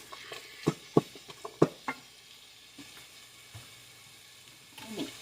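Ground meat for hamburger soup browning in a pan, a soft, low sizzle beneath a few sharp stirring clicks and scrapes in the first two seconds, then a quieter stretch with an occasional scrape.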